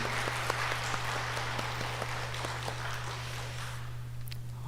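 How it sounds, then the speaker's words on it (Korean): A church congregation applauds the Hallelujah choir after a hymn at a Wednesday service: a steady wash of many hands clapping over a low electrical hum, fading slightly near the end. "우리 다시 한번 귀한 찬양을 들려주신 우리 할렐루야 찬양대에게 감사의 박수 치도록 하겠습니다"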